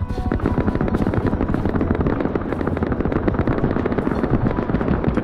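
Loud, continuous chopping rotor thump of a helicopter in the survival video game Rust, close and steady, with bursts of gunfire mixed in throughout.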